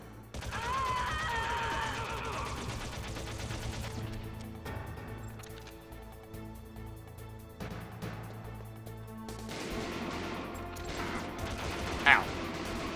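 Gunfire in the Metal Gear Solid video game, with bursts of shots and clattering impacts set against a droning game soundtrack, plus a sharp, loud crack near the end.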